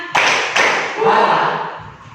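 A classroom hand-clapping game at a vocational high school, with a couple of sharp group claps followed by a fading clatter while students chant along.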